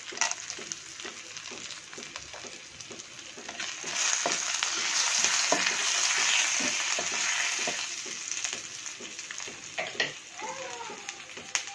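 Whole spices (bay leaves, three cardamom pods and cloves) frying in hot oil in a pan for a paneer cashew butter masala curry, giving a steady close sizzle with occasional stirring clicks and a swell in the middle.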